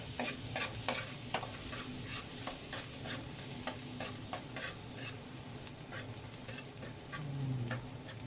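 Garlic frying in melted butter for a spaghetti dish, a dense close sizzle with rapid scraping stirs of a utensil across the pan throughout, no voices.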